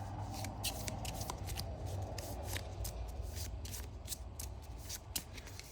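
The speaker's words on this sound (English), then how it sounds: "So let's shuffle these up." A deck of cards being shuffled for a Marvel Champions card game, a continuous riffling flutter of crisp snaps and ruffles, close and steady for several seconds.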